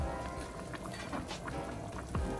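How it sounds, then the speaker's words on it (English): Jamaican curry chicken gravy bubbles and simmers in a pot, giving off quiet, irregular pops and gurgles over a soft, steady cooking hiss. "Look at it bubbling, brewing, making that good gravy."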